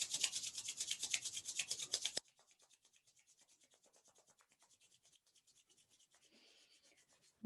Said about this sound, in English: And rubbing your hands quite vigorously.